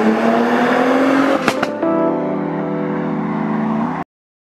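A 490 bhp Audi B5 RS4 estate pulling hard in second gear, engine note climbing loudly from inside the car, a brief gearshift break then rising again before cutting off abruptly.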